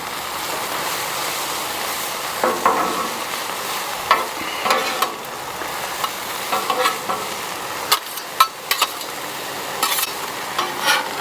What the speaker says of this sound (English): season these peppers and onions a little bit. Not too much. Of course, we're using our Cosmos SPG as usual. Give these a little toss.